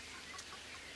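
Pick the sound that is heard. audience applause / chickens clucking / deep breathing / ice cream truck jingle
chickens clucking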